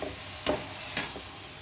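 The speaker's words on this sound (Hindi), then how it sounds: "आधा किलो चिकन का कीमा है, इसे मैं फ्राई करूँगी चिकन के कीमे के वाइट होने तक।" Half a kilo of chicken mince fries in a pan with ginger and garlic, a faint continuous sizzle broken by two brief scraping stirs.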